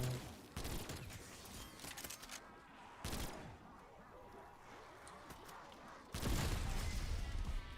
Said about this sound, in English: Well, it gave me an explosion